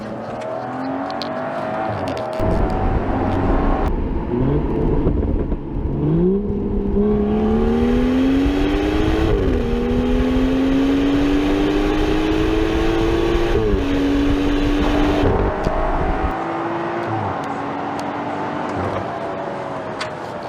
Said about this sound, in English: Just going to do a quick launch control.